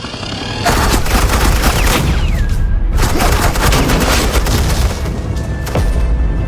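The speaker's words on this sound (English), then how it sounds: "Suppressing fire." Sustained bursts of suppressing gunfire in a Batman video game, loud and dense volleys of shots with booming impacts running almost continuously, a brief lull near the middle before firing resumes.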